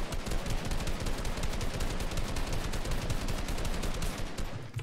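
Rapid automatic gunfire in the video game Fortnite, dense continuous bursts of shots filling the scene at steady loudness without a break.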